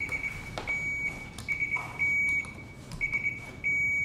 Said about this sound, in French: On va tout de suite tester les buzzers pour être sûr.